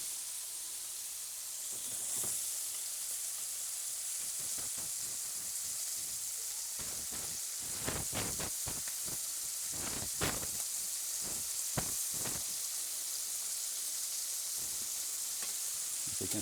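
Scallops fry in a hot pan with a steady, close sizzle and hiss throughout, broken by sharp spitting crackles that cluster near the middle, with no talking.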